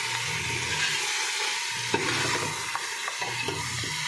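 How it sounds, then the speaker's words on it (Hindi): Mutton and potatoes stir-fry in oil, giving a steady, close sizzle with occasional scraping and clicking from the spoon against the pan. "आलू मैंने इसमें ऐड कर दिए, अब मैं इसको अच्छे तरीके से भून लूँगी।"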